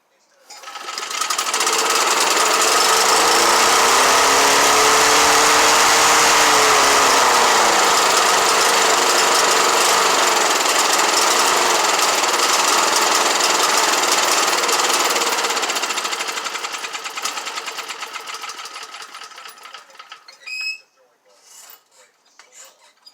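A Kawasaki FJ180V small engine cranks, starts and runs with a loud steady buzzing rattle for about fifteen seconds, then sputters, falters and dies, leaving faint clicks.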